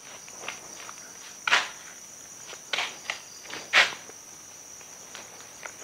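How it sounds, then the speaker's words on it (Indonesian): Crickets chirp steadily as a faint high continuous tone inside an abandoned, run-down house that looks like an old cricket farm, with scattered footsteps and scuffs over it. "Iya jangkrik ini mah"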